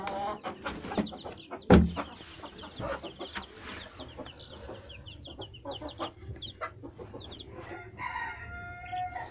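A hen clucks after laying an egg in a run of close, repeated clucks with one louder squawk early on and other fowl sounds around.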